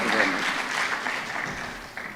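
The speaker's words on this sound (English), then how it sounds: "please put your hands together with a loud round of applause for Professor Vasi Mwaja" An audience applauds at an awards ceremony, a steady wash of clapping that carries at moderate loudness throughout the short stretch with no pause.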